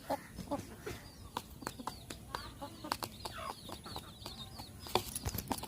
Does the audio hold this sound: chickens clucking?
yes